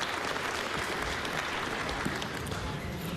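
Dense, steady applause from a large crowd at the Montana governor's State of the State address, loud and continuous throughout with no pauses.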